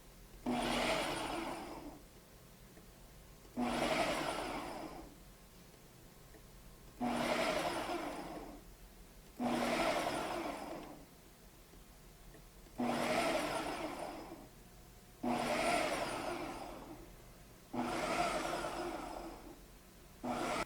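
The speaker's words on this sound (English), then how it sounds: "I'm gonna use the chop because I don't really want it to be like super smooth." A Ninja blender on its chop setting pulses through salsa in eight short, loud whirring bursts, each about two seconds long, separated by brief pauses of quiet.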